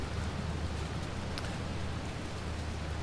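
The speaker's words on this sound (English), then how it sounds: "Rain's really coming down now." Heavy rain in Farming Simulator 22 hisses in a steady, dense downpour with no breaks, filling the scene evenly and carrying no talk over it.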